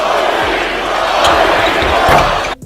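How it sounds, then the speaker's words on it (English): Lakers home crowd at an NBA basketball game chanting a player's name in unison during a free throw late in the third quarter, a loud dense roar of massed voices with sharp accents, steady throughout before cutting off at the end. "The Lakers crowd is chanting Kobe's name."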